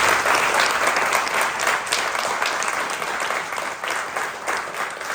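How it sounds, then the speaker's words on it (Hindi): Theatre audience at a Hindi comedy play applauding loudly and steadily, a dense wash of clapping that holds throughout with no talk over it. "एक बार आपके लिए एक बार जोरदार तालियां"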